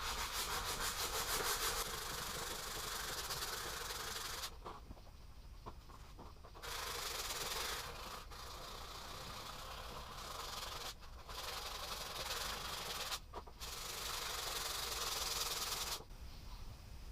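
Plastic trim being sanded by hand with sandpaper in a plastics restoration, giving steady broadband scratchy rubbing strokes with a few brief pauses, close and fairly loud, no talking.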